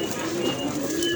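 A pigeon gives a soft, low coo once, close by, against light background noise.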